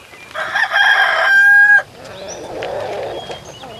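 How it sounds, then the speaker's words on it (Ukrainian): A rooster crows loudly and close by, followed by softer clucking and faint chirps from other fowl, like a busy poultry yard. "І вони всі разом пішли на пташине подвір'я."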